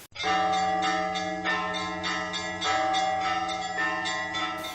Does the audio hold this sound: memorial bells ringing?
yes